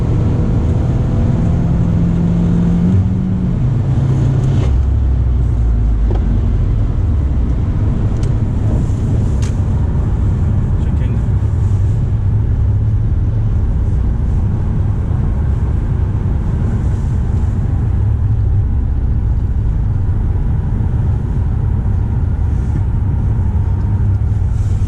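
Audi A4 B6 1.8T Quattro with a stage 3 tune at 25 psi of boost, pulling hard in fourth gear: a steady, loud low rumble of engine and road noise that fills the whole stretch without a break.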